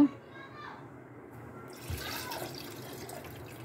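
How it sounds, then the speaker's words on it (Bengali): Coconut water poured into a bowl of yogurt, cashews and green cardamom for a coconut lassi, giving a soft splashing trickle that starts partway through and runs steadily to the end. "এবার ডাবের জলটা এর মধ্যে দিয়ে দেব।"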